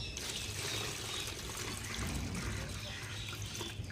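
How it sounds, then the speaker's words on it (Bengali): Water is strained and poured to prepare drinking water for pigeons in winter, a steady close trickle and splash running continuously throughout. "আমি এবার এটাকে ছেঁকে এই যে জল দেখতে পাচ্ছেন জলের মধ্যে আমি মিক্স করে দেবো"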